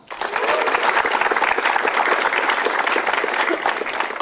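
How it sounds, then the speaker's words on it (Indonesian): Lively applause from a comedy show audience, with many hands clapping densely and evenly for several seconds after a quick start, loud and close. "coba kita dengar tepuk tangannya untuk Pau Pau"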